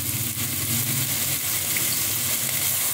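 Onion, garlic and beetroot sauté in a pan, giving a steady soft sizzle and crackle that stays close and even throughout with no voices.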